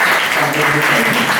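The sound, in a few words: audience applause for a resource person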